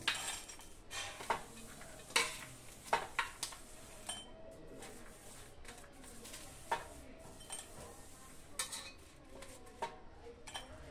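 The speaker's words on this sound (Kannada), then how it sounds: "ತದನಂತರ ಬೆಳ್ಳುಳ್ಳಿ ಪೇಸ್ಟ್ ಅಲ್ಲ, ಬೆಳ್ಳುಳ್ಳಿಯನ್ನು ಹಾಕೊಳ್ಳಿ." Cooking sounds for a pulao, with garlic cloves dropped into a pan and stirred, giving irregular clinks and scrapes of a utensil against metal over a light background, and a few sharper knocks.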